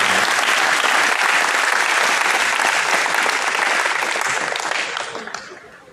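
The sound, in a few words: applause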